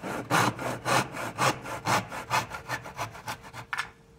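A hand saw cuts through a clamped 7 3/4-inch wooden board in about a dozen rhythmic rasping strokes, close and clear, with no talking.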